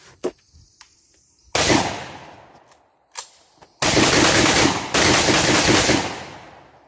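A Mini-14 rifle, tactical version, fired outdoors: a few sharp, spaced single shots, then two long loud bursts of rapid fire close by.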